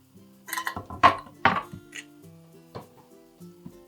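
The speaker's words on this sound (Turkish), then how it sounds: "Hemen kesme tahtamı yanıma alıyorum ve doğramaya başlıyorum." A knife chops mushrooms on a cutting board in several separate, uneven chops, with soft background music running underneath.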